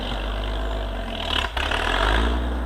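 A farm tractor's engine runs steadily close by, a low rumbling drone with a brief dip midway before it resumes, no voices present.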